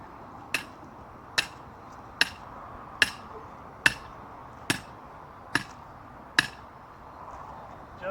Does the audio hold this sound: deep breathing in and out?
no